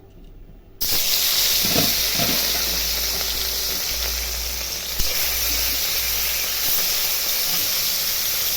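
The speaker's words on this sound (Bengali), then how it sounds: "এখন মাছটা ভেজে নেব কড়াই তেল দিয়েছি গরম হয়ে গেছে" Salted, turmeric-rubbed rui fish dropped into hot oil in a wok, a sudden loud hiss that bursts in after near-silence and stays as a steady, strong sizzle, with a few faint clinks, no talk.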